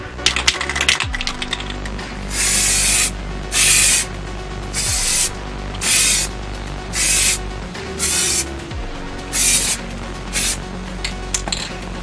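An aerosol can sprays a primer coat onto plastic hair clippers in short repeated bursts of loud hissing, about nine even passes separated by brief pauses, with faint clicks and handling noise between them.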